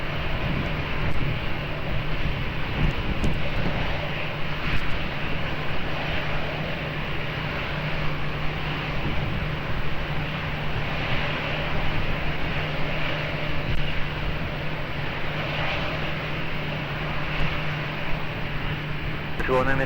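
An airplane at Lisbon Airport rumbles steadily at a distance, a broad continuous engine roar with a low hum underneath, unchanging for the full length, with no talk.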